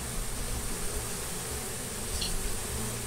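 A honey bee colony buzzing around a hive, a steady, dense hum that fills the whole short stretch without breaks.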